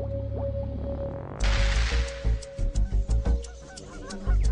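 After a low hum, geese break into a run of loud, close honks in quick succession, then fall quiet before one more call.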